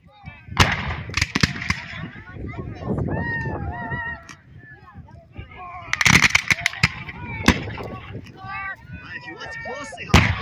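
Sharps rifle volleys from sharpshooters at a Civil War reenactment at Green Bluff, Washington, with sharp, loud cracks and booming shots spread irregularly through the scene, among outdoor crowd chatter and voices.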